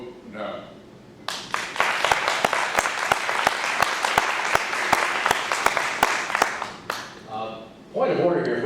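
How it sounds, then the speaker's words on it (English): Audience applause at a West Pasco political debate in 2014, a dense burst of clapping rising sharply after a brief voice, sustained for about five seconds, then cut off as a speaker resumes talking. "if we could withhold on applause between candidates"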